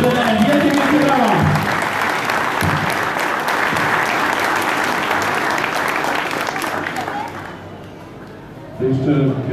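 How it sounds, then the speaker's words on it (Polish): Loud, sustained crowd applause fills a speedway team's season presentation hall, the clapping thinning out near the end as a voice speaks over the remaining claps. "Wielkie, wielkie brawa!"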